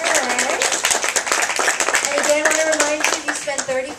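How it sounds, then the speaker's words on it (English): A crowd at an in-store cooking demo claps for a visiting chef from Monterey, a loud patter of hands mixed with voices and children talking throughout. "Give a round of applause to Chef David for being here all the way from Monterey"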